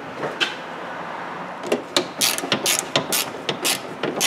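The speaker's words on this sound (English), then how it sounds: "we just go up underneath the bottom right here and catch the 10mm bolt" A hand ratchet snugs a 10mm bolt into plastic under the front bumper of a 2009 Nissan Altima, giving close, crisp bursts of rapid clicking in short irregular strokes with no voices.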